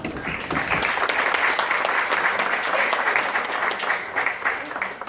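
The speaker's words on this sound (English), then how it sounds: "Let's get a round of applause for them" Wedding guests give a round of applause for the hosting Sotrelli and Bossert families, a full, steady burst of many hands clapping that swells quickly and holds for several seconds before easing slightly.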